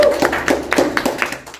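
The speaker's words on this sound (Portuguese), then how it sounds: "Então uma salva de palmas de hoje." A small audience gives a short burst of applause on a Brazilian health show, scattered claps sounding close and fairly loud for under two seconds.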